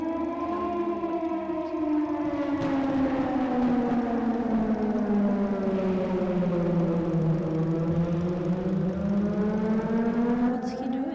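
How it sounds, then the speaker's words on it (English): A wailing civil-defense-style siren from the game Titan Chaser, rising and falling slowly in pitch with a loud sustained tone, lingering over several seconds. "I heard this siren from my apartment in Bright City every once in a while."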